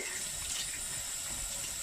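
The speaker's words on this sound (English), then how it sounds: "You rub the soap around the joint, and then just make sure you rinse it off really good" Warm tap water runs steadily over a ball-jointed doll joint as soap is rinsed off, a continuous close hiss of flowing water with no speech.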